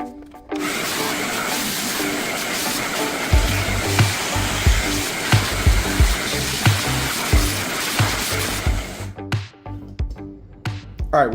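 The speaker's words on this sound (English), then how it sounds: "we vacuumed everything up" Vacuum cleaner sucking up drywall debris after hole patching, a loud continuous motor roar with repeated knocks and rattles as chunks are pulled in, then switching off and clattering near the end.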